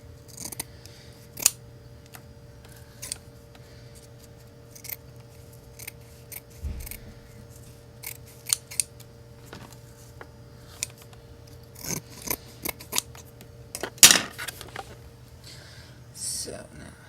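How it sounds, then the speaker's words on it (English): Scissors cutting thin strips of material for a pregnancy cast sculpture: scattered sharp snips at uneven intervals over a steady low hum, close but fairly quiet, with a brief cluster of louder cuts near the end. "I'm gonna cut the strips extra skinny."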